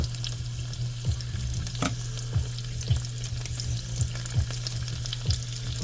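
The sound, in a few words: chashu pork thrown into a pan and frying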